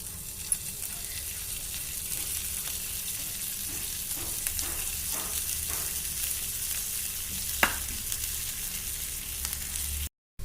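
Carrot paratha cooks in butter on a pan, giving a continuous, even frying sizzle with a few light scrapes and taps, close and unbroken, with no voices.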